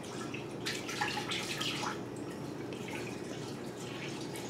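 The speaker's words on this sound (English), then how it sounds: "we're gonna put our milk in our pot" Milk poured into a big pot, a steady soft splashing stream running continuously at moderate level, fairly close.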